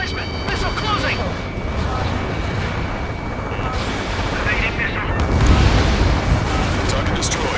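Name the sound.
explosion of a destroyed target in Ace Combat 7 video game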